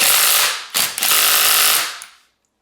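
Milwaukee M12 FIWF12 cordless impact wrench fitted with a 19 mm socket, a loud close burst of rapid hammering that briefly dips, then resumes for about a second before cutting off.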